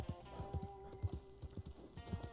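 A horse in the video game Red Dead Online trots with a rhythmic clip-clop of hooves, low thuds in steady succession, over a faint sustained tone, with a soft whinny in the mix.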